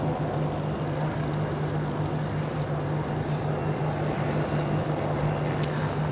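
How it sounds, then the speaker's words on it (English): A Boeing 787-9 airliner on its first flight climbs out from Paine Field and banks left, two chase planes ahead; a steady broad jet roar with a low sustained hum, constant and moderately loud throughout. "the 787-9 taking a turn to the left, heading out west, preceded by two chase airplanes"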